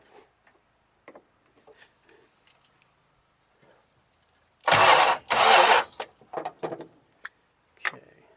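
A seized Chrysler Slant Six engine cranks in two loud, close bursts of a few seconds each, followed by shorter sputtering attempts, with quiet gaps and a faint steady insect-like whine between.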